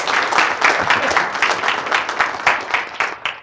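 An audience applauds to welcome speaker Jeff Hawkins before a lecture at MIT, with dense, loud clapping that swells and then fades toward the end, under a faint murmur of voices.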